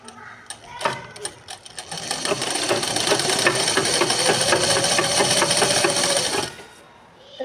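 Sewing machine stitching tucks into a blouse's cup piece, running in a steady, loud continuous whir for several seconds after a few short starts, then stopping abruptly near the end.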